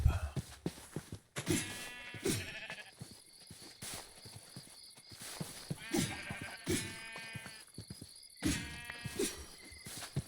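Repeated sheep bleats from a game, several calls spread across the clip with short gaps, fairly close, alongside clicks and small game sounds.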